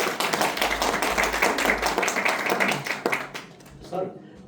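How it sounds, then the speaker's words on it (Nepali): An audience at a motivational talk claps to welcome a manager onto the stage, a brisk round of applause that fades out after a few seconds, with a voice speaking at the end. "दिपेश सरलाई जोरदार ताली सबैले"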